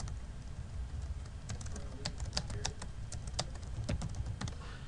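Quick, light keystrokes on a computer keyboard as a note is typed into eClinicalWorks medical software, an irregular patter of clicks over a low steady hum.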